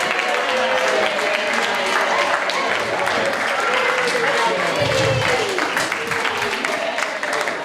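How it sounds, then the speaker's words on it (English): An outdoor dog show crowd applauds for a dog just walked around the ring, with sustained dense clapping from many hands throughout and voices talking over it. "Let's give a round of applause for Teddy for coming out."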